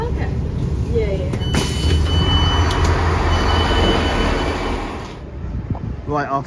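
A freight train hauled by two class 66 locomotives rumbles past loud and close, with wheel squeal and rattling wagons. A voice speaks over it as the roar fades toward the end.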